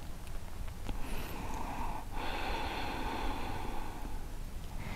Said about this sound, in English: let's take a nice couple inhale and exhale here